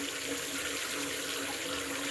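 Hot water pours from a tap into a bathtub as a steady, dense rushing hiss that stays constant and close throughout, with no voices.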